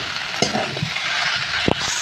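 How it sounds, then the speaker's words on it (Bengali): A cooked banana flower mixture fries in a pan with a steady close sizzle, broken by a couple of sharp scraping stirs of a spatula. "এবার সবগুলোকে একসাথে আরও কিছুক্ষণ ভাজবো।"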